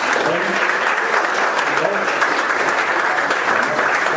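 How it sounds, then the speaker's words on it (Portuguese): A church congregation claps continuously and loudly, a dense, even wash of applause that holds steady throughout. "Que as palmas louvem a Deus mais uma vez."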